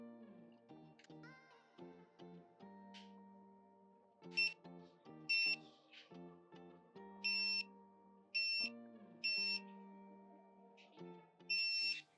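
A multimeter's continuity beeper, probing shorted parallel MOSFET pins on a BLDC motor controller board, sounds in a series of short, shrill tones. Quiet clicks and probe taps fall between the beeps.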